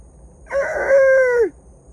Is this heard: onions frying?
no